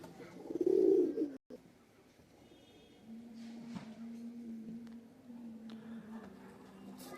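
A male and a female pigeon coo softly, a low burbling call starting after a brief louder burst, faint and steady against a quiet room background.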